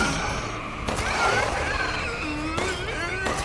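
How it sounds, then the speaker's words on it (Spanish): Gunfire in the survival-horror game Resident Evil Village: Shadows of Rose, a few sharp shots breaking out over a steady background of game ambience and music. "Ahí fallando algunos tiros,"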